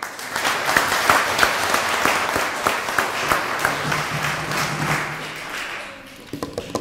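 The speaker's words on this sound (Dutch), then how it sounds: "En een applaus van iedereen." Loud applause from an audience at a junior dictation award ceremony in a belfry hall, dense clapping sustained for several seconds, then dropping off into a few isolated claps at the end.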